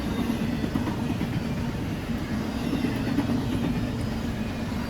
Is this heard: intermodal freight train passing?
yes